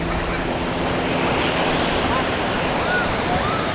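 Ocean surf on Hikkaduwa beach in Sri Lanka rolls in as a loud, constant wash of breaking waves, with wind buffeting the microphone.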